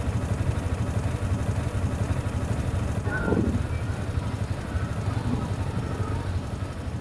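A motorcycle engine runs at idle with a steady, close, low rumble and slight rattle that holds evenly throughout, with no voices.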